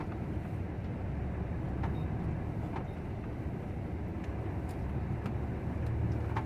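A truck drives along a road, giving a steady, loud low rumble of engine and road noise with faint clicks and rattles over it, with no voices.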